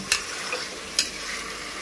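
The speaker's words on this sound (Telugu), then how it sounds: "బాగా నూనెలో అయితే వేగించుకొని" Onion-spice paste flecked with cardamom and cloves frying in oil for chicken biryani, giving a steady soft sizzle under a couple of sharp spoon scrapes, close and moderately loud.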